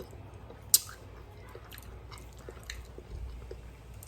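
Close, soft wet chewing of homemade baked beans with smoked beef sausage and ground beef, with one sharp click near the start and quiet mouth sounds after.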